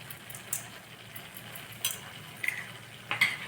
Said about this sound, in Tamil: உப்பு போட்டு ஒரே ஒரு நிமிஷம் கலக்கிட்டு